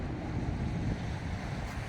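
Steady rushing wind with a dull roar of surf underneath at the Atakum seaside, constant and fairly close, no voices.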